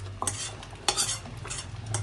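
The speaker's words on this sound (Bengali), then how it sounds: "এটাকে ভালো করে মিক্স করে নেব" A spoon stirs spices into cooked khichuri of rice, lentils and peas in a pan, giving a few soft scraping strokes against the metal with faint sizzling, close and quiet, with no talking.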